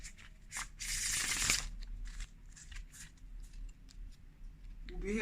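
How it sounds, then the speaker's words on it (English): Adinkra affirmation cards are shuffled in short riffling bursts, with one loud rush near the start and lighter flicks after, while people talk quietly nearby. "he's shuffling these cards"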